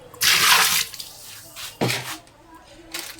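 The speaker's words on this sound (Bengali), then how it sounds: "জল তুললাম এই কিছুটা পরিমাণে জল দিলাম" Water poured from a vessel into a biryani pot for half-boiling chicken, a broad splashing gush near the start, then a second shorter pour with lighter trickles, close and clear with faint background noise.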